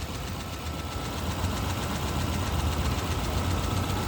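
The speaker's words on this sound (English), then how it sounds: "So motor runs good" A repaired salvage Subaru's engine runs steadily while still cold, with an even mechanical idle and a faint knocking rumble holding constant throughout.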